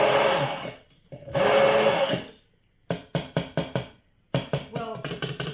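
A small food chopper whirs in two loud bursts as it chops a few tomatoes, then rapid rhythmic knocking pulses follow, close and without talk.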